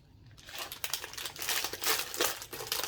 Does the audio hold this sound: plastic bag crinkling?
yes